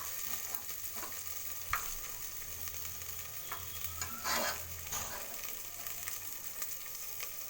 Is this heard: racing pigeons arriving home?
no